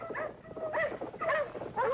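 Big hunting hounds barking, yelping and whimpering close by as they hold a cornered mountain lion at bay, with rapid overlapping yips and cries bursting in uneven, frantic waves.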